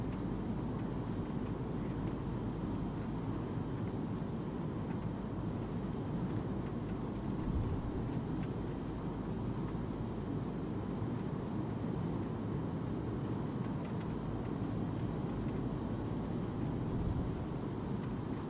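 Twin turboprop engines of a Super King Air in a flight simulator hold a steady, dense drone with a faint high whine, unchanging throughout at moderate distance.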